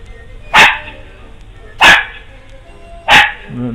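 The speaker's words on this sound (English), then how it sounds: "She just barks like a fool." Three loud, sharp dog barks spaced about a second apart, each standing out clearly against quiet background noise.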